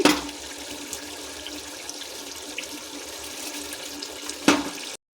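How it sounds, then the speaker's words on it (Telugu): Soaked rice tipped into a pot of boiling water for chicken biryani, giving a steady close watery rush and bubbling throughout, with a brief louder splash near the end. "రైస్ వాటర్ బాయిల్ అవుతుంది కదండి, మనం నానబెట్టుకున్న రైస్ కూడా వేసేసుకుందాం దీంట్లోకి"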